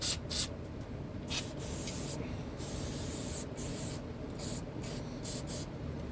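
Brake cleaner sprayed from an aerosol can onto the disassembled carburetor parts of an Echo CS306 chainsaw, heard as several close, loud hissing bursts of uneven length with brief pauses between them and no talking.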